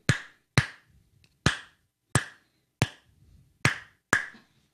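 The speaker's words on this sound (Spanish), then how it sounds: "golpeamos con la palma de la mano sobre ese espacio, introduciendo el aire dentro" A series of seven sharp, hollow pops from a cupped hand slapping, spaced roughly half a second apart, close and crisp with quick decays.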